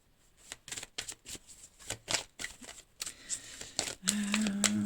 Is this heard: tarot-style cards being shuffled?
yes